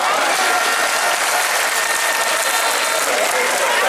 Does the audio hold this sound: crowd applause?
yes